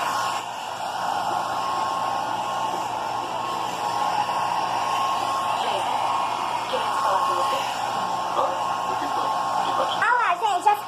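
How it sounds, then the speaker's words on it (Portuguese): A hair dryer runs steadily while drying hair indoors, a constant airy whir with slight shifts as it moves, ending with a brief handling noise near the close. "Eu vou secar meu cabelo."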